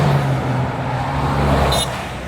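A Porsche 996 GT3 sports car drives past at a classic car gathering, its engine a steady broad roar that swells slightly and fades as it goes by, with general road noise around it.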